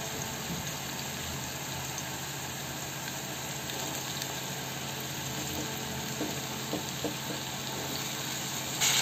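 Chickpeas for chole frying in hot oil and ghee with onions in a pan over medium heat, a steady dense sizzle running throughout at moderate level with no talking.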